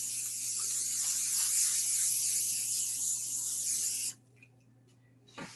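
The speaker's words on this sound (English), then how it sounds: "And then I spray it again." A can of cooking spray hisses steadily over parchment paper laid in a baking pan, one long close aerosol spray lasting about four seconds before cutting off to near silence.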